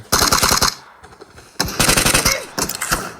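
Rapid automatic gunfire in the PUBG Mobile video game comes as loud, close bursts: one short volley, a pause, then a longer volley and a final brief burst.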